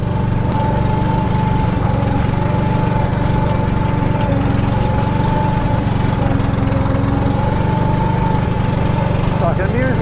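A vintage 1980s UTV engine runs at a steady, loud, droning chug close by for the whole stretch, with no break in its even rhythm.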